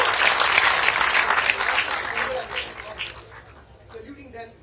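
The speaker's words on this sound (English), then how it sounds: "So big applause for them," Crowd at a superbike meetup in Lonavala breaking into loud applause that fades over a few seconds as voices begin to talk.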